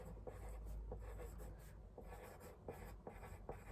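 Quiet, close scratching of a pen or pencil writing by hand on paper, a continuous stroke-by-stroke scribble with small pauses, low in level and without any talking.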